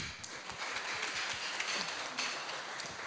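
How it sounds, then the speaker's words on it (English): Scattered audience applause during a hybrid webinar, light and fairly distant, with loose irregular claps spread through the whole stretch and no speech. "so a round of applause"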